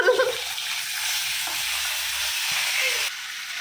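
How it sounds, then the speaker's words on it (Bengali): Fish curry cooking in a pan gives a steady, close frying sizzle with faint stirring scrapes, continuous and fairly loud throughout. "এখন রান্না করছে মাছের ঝোল"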